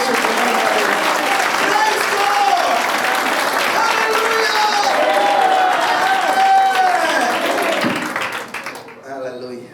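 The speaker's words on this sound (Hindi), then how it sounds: "एक बार और ताली बजा करो" A church congregation at an Easter service claps together in sustained, dense applause, with voices and singing-like tones running underneath before the clapping fades near the end.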